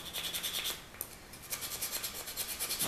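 A shellacked wooden organ pipe is rubbed down by hand to knock back the raised grain, producing soft, rhythmic rasping strokes at close range, fairly quiet, with a brief pause midway.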